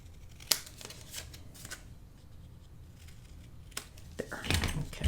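Scissors retrimming the edge of a folded paper pocket page for a mini album, with a few quiet, separate snips and paper rustles, close and soft, ending in a denser cluster of cuts.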